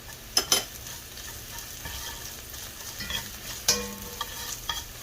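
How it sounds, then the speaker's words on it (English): Chopped garlic sautés in a pan with a steady soft sizzle, broken by a few sharp clicks of a utensil stirring and scraping, close and alone. "we're going to go ahead and saute this for a few minutes"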